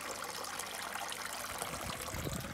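Water from a koi pond waterfall splashing and trickling steadily, a close, continuous wash of bright liquid noise with no pauses.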